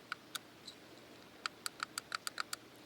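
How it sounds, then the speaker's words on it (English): Sharp little clicks, two at first, then after a pause a rapid string of about eight, close and dry in a quiet space. "Just a little clicking sound"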